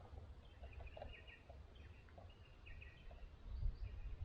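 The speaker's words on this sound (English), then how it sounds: "And the sound of the birds." Birds calling around Ball Creek Shelter on the Bibbulmun Track, with scattered chirps and short song phrases fairly far off, faint over a steady low outdoor rumble and no talking.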